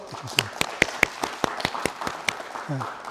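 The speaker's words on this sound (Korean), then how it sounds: "하나님께 영광의 박수 올리고" A church congregation at a Sunday service in Berlin gives scattered applause, with separate crisp hand claps landing at an uneven, moderately quick pace and fading toward the end.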